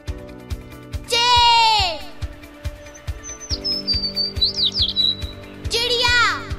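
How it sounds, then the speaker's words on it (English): A sparrow chirps in a few bright, rapid bursts, near and fairly loud, over a steady rhythmic background beat. "Sparrow."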